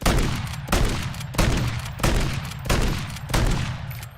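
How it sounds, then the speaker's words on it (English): Lockwood MK2 hip-fire shots in the Modern Warfare 3 video game: six loud, booming gunshots spaced about two-thirds of a second apart, each decaying into a reverberant tail, with no voices. "So if you're right on somebody, you can hip fire and be fairly accurate."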